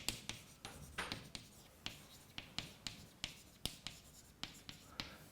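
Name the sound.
writing on a board during a lecture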